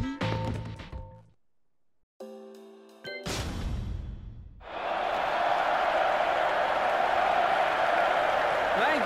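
A crowd applauds in a Tekken 7 finale cutscene after a short burst of game sounds, and a steady wash of clapping fills the second half of the clip.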